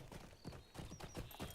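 Horse hooves clip-clop in a steady, rapid rhythm as a lantern horse is ridden in the video game LOTRO, close and clear with no talk.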